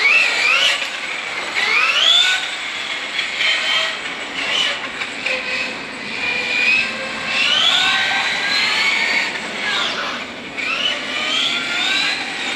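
An MCD XR5 12S electric RC car runs on a parking lot, with a high whining motor that rises and falls repeatedly as it accelerates and brakes, with no talking.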